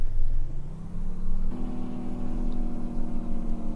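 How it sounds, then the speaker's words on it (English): An engine engine-brake kicks in on a heavy truck in American Truck Simulator: a steady low motor drone shifts at about halfway into a harder, buzzing tone that holds to the end, loud and close with no talking. "let's go ahead and toggle that Jake brake here"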